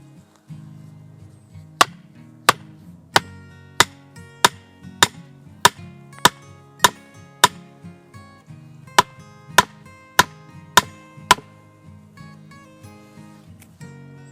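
A small sledgehammer drives a wooden stake into the ground beside a young tree, giving about fifteen sharp, evenly spaced thuds in two runs with a short pause between them.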